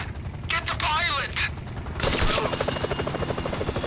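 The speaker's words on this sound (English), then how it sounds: "The chopper's gotta go" A helicopter in Grand Theft Auto V thrums loudly with rotor chop, joined by bursts of gunfire and a rising mechanical whine, while a voice briefly speaks over the start.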